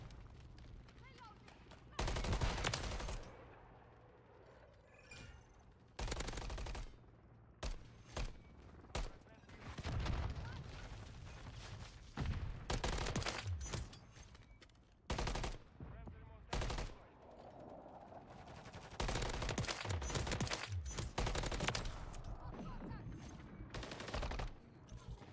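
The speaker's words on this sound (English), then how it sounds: "Who's shooting?" Call of Duty: Modern Warfare 3 gunfire from an MCW assault rifle in multiplayer: repeated loud bursts of automatic fire separated by short pauses, with game ambience and some talk mixed in.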